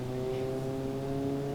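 A small car engine in the BeamNG.Drive driving game, with a low 4,500 RPM rev limit, holds a steady, tonal hum at moderate pitch for a brief moment, faint and unbroken.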